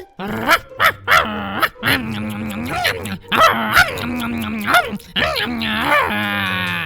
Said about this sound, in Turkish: Rüzgar niye havlıyor bu köpek sustur şunu